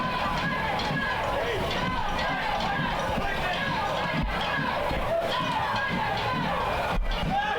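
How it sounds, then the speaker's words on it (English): A soccer match crowd roars in a steady, dense wash of cheering and shouting throughout, loud and continuous with a few brief thumps. "And the crowd went crazy."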